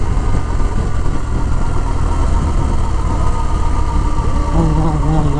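A loud, steady Harley-Davidson Fat Bob motorcycle engine idles and rumbles continuously with a low throbbing drone, close by, with no pauses.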